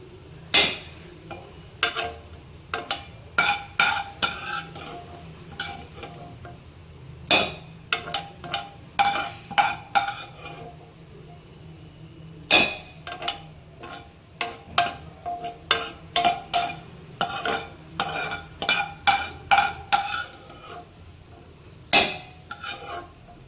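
Ingredients for Andhra-style gongura pachadi fry in oil while a metal spoon stirs and scrapes against the pan, producing many sharp clinks and knocks in an irregular rhythm over a faint sizzle.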